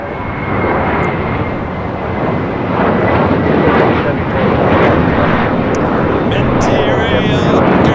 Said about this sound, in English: That is JetBlue Airways Flight 1774 taking off to Newark on an A321 Material Girl.